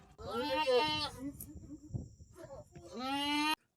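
Two loud, wavering bleats from two goats sound up close, one at the start and another near the end, with quieter rustling and faint voices in between.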